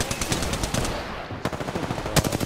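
Rapid automatic gunfire in the video game Apex Legends, dense bursts of sharp shots close and loud, broken by a brief pause and then a few heavier blasts.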